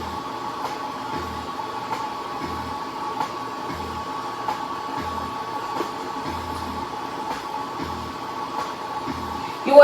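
A vacuum therapy machine draws suction through a cup on the body during post-BBL sculpting: a steady pump drone with regular low thumps pulsing at an even rhythm, with no talking.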